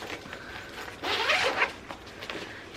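Zipper on a travel backpack with a laptop pouch being pulled open in one steady, close, rasping sweep lasting about half a second, with quieter handling rustle before and after.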